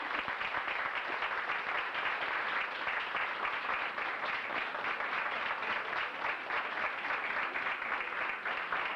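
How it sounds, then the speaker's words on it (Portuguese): Church congregation applauding, a dense sustained wash of many hands clapping, steady and even throughout, moderately distant, with no speech over it. "Vocês poderiam dar uma salva de palmas para Jesus?"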